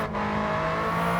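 A race car engine in a driving video game holds a steady, loud revving drone with a strong harmonic whine throughout, sustained and close, with no voices over it.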